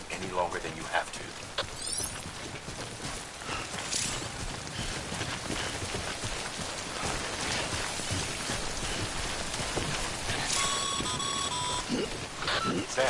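Steady timefall rain patters down in the video game Death Stranding, a dense, loud hiss of drops on surfaces throughout, with brief electronic beeps and tones layered on top.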